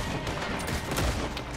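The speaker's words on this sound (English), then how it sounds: "He won't stop shooting!" Rapid gunfire from a gunfight in the video game Red Dead Redemption 2, dense overlapping shots and booms filling a short stretch with no talk.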